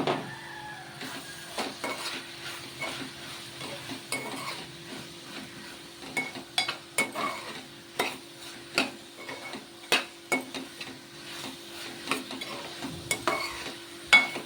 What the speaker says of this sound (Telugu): ఇట్లా మంచిగా కలుపుకోవాలండి